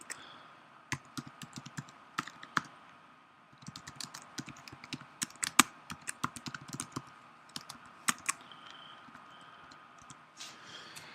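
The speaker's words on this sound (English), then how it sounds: "then you can just begin to type just like a regular Word document" Fingers typing notes on a computer keyboard in a word-processing document, a close, brisk patter of key clicks in irregular bursts with brief pauses and louder strikes, no voices.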